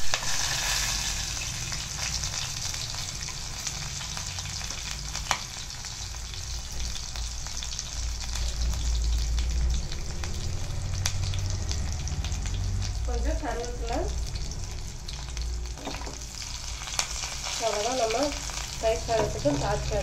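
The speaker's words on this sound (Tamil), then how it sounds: "அதுக்கு கடுகு போட்டு கொஞ்சம் உளுந்து இஞ்சியும் பச்சை மிளகாவும் இந்த மாதிரி பொடியாக கட் பண்ணி வச்சுருக்கேன்." Mustard seeds, urad dal, chopped ginger and green chili sizzle in hot oil for a tempering, a steady close frying hiss that lasts the whole time, with brief faint voice sounds appearing near the end.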